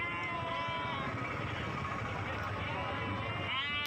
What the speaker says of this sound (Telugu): గొర్రెలు కానీ మేకలు కానీ మంచి అయితే ఉన్నాయి ఈ సంతలో అయితే